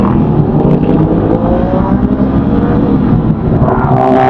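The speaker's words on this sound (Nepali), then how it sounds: "super bike" A Ducati superbike roars close by on a road during a Saturday ride, its engine note loud and steady throughout, rising slightly toward the end as it revs and passes.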